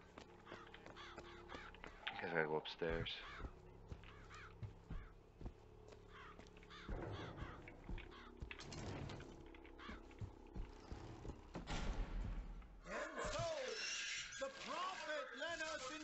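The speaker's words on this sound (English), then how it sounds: "There's a lot of crows eating this food" Crows caw intermittently in the video game Bioshock Infinite, mixed with game ambience and footsteps while someone talks over them.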